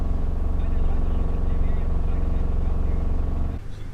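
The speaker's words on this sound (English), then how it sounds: "I have to drive in a giant row of Land Rovers" Land Rovers driving slowly in a long parade row, a steady close engine rumble from a vehicle in the line that drops off abruptly near the end.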